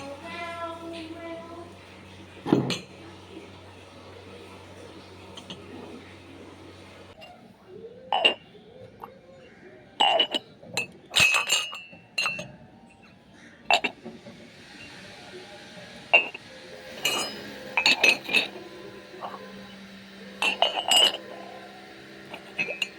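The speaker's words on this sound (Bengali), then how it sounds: "এই 6 পিস কাপ কিনলাম, আর এগুলোকে এখন ধুয়ে রেখে দিই" Six new tea cups being washed, with sparse, close glassy clinks and knocks of ceramic against ceramic, scattered irregularly over a quiet background with brief faint talk.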